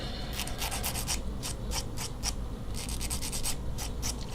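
Leaf springs are held together and sanded by hand, giving a steady run of scratchy, rasping strokes in quick bursts, close and fairly loud against a constant low background hum, with no talking.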